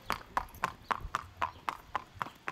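Racehorse hooves on a stud farm: a steady, even clip-clop of about ten sharp hoof strikes at a walking pace on a hard surface, close and distinct, with no talking.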